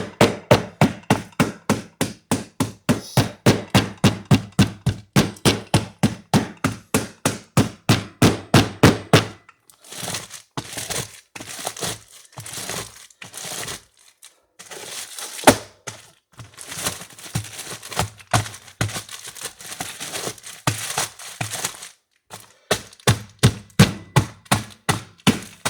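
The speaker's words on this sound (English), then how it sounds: "break up your fruits and everything and mix your ingredients" Scuppernong muscadine grapes being crushed by hand for homemade wine, first as a fast, steady run of loud, regular pounding thuds, then a looser stretch of squishing and irregular knocks, with no talking.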